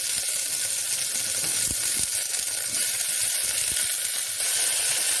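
Chopped carrots sizzle steadily in a hot pan for chicken soup, a continuous bright frying hiss with a few soft low knocks, close and alone with no talking.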